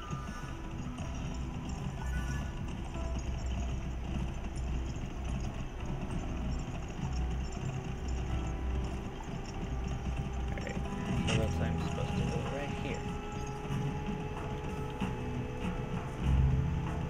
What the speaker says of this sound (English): Looks like my horse is already faster than his.